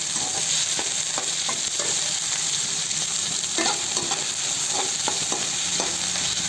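Onions and green chilies fry in a pan for an okra stir-fry, giving a loud, steady sizzle with occasional scraping stirs close by, and no talking.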